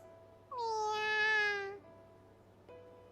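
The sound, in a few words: kitten meowing in a video game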